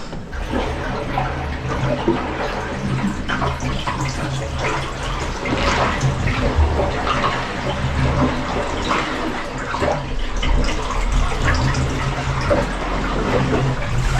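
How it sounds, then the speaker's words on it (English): Water gushes into a boat hull from a sheared-off, corroded bow thruster motor in a continuous, forceful stream, splashing and churning nearby with a steady rushing roar and no talking. "We've got a continual stream of water coming out."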